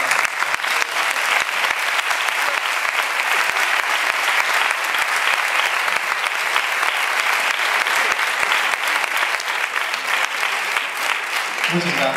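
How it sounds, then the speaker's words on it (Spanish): Big, sustained applause from a concert audience in a hall after a performance by young musicians under conductor Bert Appermont, dense and loud for the full stretch, easing slightly at the very end. "grande aplauso."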